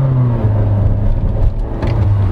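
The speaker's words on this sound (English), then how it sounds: "I can confirm this new engine is a bit beefier in the mid-range of the RPM" A 2022 Honda City RS engine pulls hard in sport mode, a loud, steady rising drone close up with a brief dip midway and no voices.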